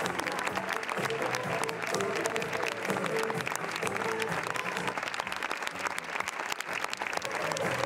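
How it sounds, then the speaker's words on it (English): Long, sustained applause from a large crowd at the Cannes Film Festival red carpet premiere of Flag Day, a dense continuous clatter of many hands filling the whole stretch at steady loudness. "Voilà donc, longue minute d'applaudissement."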